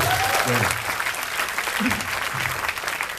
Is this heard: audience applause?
yes